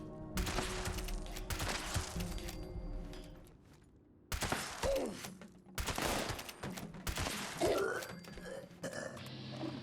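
Lever action rifle fire in Fallout 76, with sharp loud broadband shots recurring across the clip, separated by brief gaps and mechanical clatter, close and dominant.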